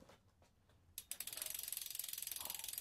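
A bicycle mechanism ratchets during work on a carbon bike with hydraulic brakes, a few soft taps giving way to a fast, even run of loud clicks close by, with no voices.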